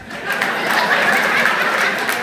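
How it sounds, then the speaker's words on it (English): Audience applause at a live-streamed community gathering, a steady dense wash of clapping that swells after a brief start and holds at close, even loudness, with faint chuckles mixed in. "Please clap for that man."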